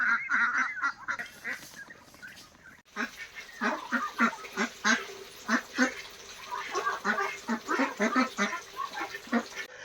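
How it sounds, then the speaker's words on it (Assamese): Domestic ducks kept on a village pond give repeated loud honking quacks in uneven bursts, close by and layered over one another, with a short pause near the start before the calling picks up again. "দেখিছে আমাৰ হাঁহকেইটা ধুনীয়াকৈ চৰি আছে পুখুৰীত"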